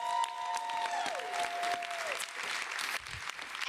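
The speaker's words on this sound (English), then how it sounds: "A round of applause, please." Audience at a New York City gender equity announcement by the mayor bursts into sustained applause, dense steady clapping that fills the whole stretch, with a few faint whistles and cheers on top.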